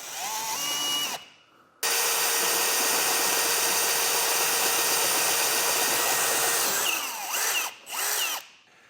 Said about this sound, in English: Once you have these 2 holes drilled out, we can increase our size of our drill bit to the final size we need.